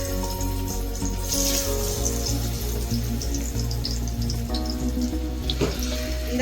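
A slice of vanjaram fish drops into hot oil and sizzles steadily, a continuous hiss and crackle with musical tones and a rhythmic beat playing underneath.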